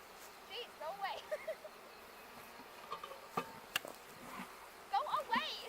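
Honey bees from a newly installed package buzz around a hive in quiet outdoor surroundings, with faint, scattered buzzing passes, soft knocks, and people talking now and then.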